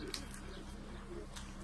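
Soft, low cooing of young pigeons in a quiet room, faint and brief, with a slight background hum.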